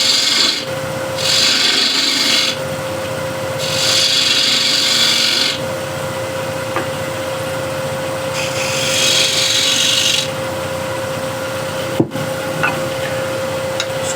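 A square scraper cuts a wooden hexagon plate spinning on a lathe. Loud rasping scrapes come in four separate bursts over a steady motor hum, with quieter spinning between cuts.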